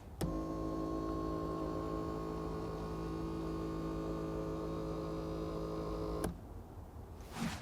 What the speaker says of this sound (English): The electric motor which moves the seat base is really noisy.